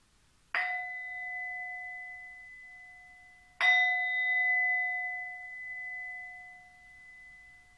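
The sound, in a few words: small gong struck during yoga session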